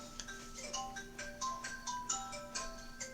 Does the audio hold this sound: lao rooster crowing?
no